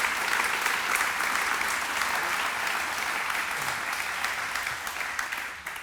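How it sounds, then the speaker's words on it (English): Audience at a charity program event gives a sustained round of applause: steady, full clapping that holds for several seconds and tails off slightly at the end. "if we could all give them a round of applause"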